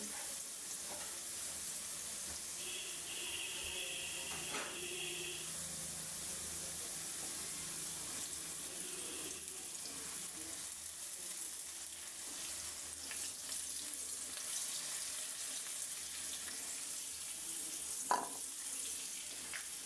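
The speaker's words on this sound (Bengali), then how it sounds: "আমি এভাবে ভেজে নিই আলু।" Potatoes fry in oil for meat curry, a steady, moderately quiet broadband sizzle running throughout, with a few faint clinks and a brief sharp knock near the end.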